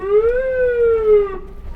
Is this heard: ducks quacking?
no